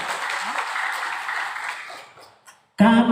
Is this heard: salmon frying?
no